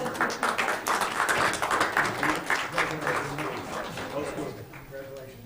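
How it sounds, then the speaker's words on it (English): A round of applause fills a room at a Weber County live event after a group photo with an award, steady dense clapping throughout with a few voices and cheers mixed in. "Let's get another round of applause."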